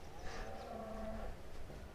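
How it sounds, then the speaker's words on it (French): Cattle moo across the Ecuadorian countryside, a drawn-out lowing call at moderate distance over faint outdoor background, followed by a softer second call; no one speaks. "On entend les vaches, il y a des vaches partout hein, ici."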